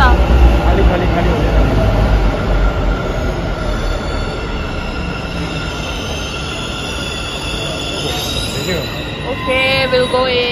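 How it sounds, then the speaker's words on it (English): A Bangalore metro train rolls past with loud, continuous rumbling and wheel squeal, steady throughout and close by, with people talking faintly around it. "I guess this is the metro."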